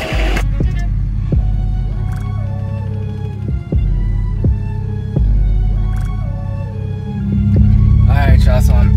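A car engine idles steadily inside the cabin of a newly delivered Copart auction car that goes into gear but won't move forward, a low continuous hum with faint clicks and a rising rumble near the end.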